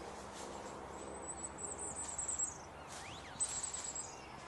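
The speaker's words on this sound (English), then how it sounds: "this particular bird, whether all firecrests do this or just this one, had a very slight up tilt at the end" A firecrest sings outdoors in April near Basingstoke, giving thin, very high-pitched, rapid notes in two faint phrases that lift slightly at the end, heard over a steady broad background hiss.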